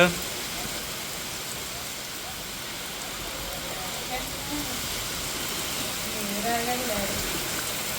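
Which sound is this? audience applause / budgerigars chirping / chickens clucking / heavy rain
heavy rain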